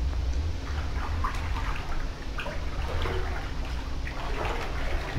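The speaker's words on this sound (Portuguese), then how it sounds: "Já vou ter que entrar na água" Continuous water sloshing and splashing in a pool inside the Backrooms video game as the character wades in, steady and fairly close with no talking.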